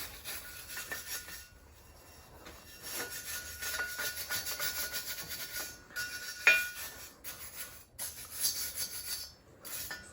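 Scraping at rough, gritty paint on the side panel of a car during a Coyote engine swap, a steady rasping, rubbing scrape with irregular strokes and brief pauses, close and fairly quiet, no talking.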